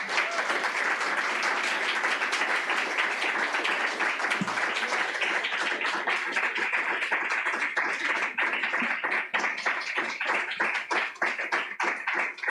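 Sustained audience applause after a poetry reading at a Southern California poetry festival, dense steady clapping from a full room that holds loud throughout and thins slightly near the end.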